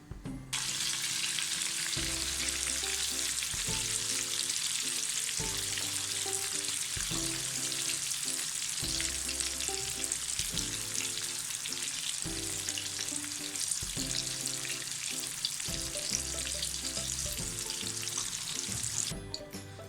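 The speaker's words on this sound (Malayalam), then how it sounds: "അപ്പോൾ ഈ എണ്ണയൊന്നും ചൂടാകുമ്പോൾ നമുക്ക് മീൻ ഫ്രൈ ചെയ്തെടുക്കാം." Fish fries in hot sesame oil for a Kerala-style fish pickle, giving a dense, steady sizzle throughout with soft music playing underneath.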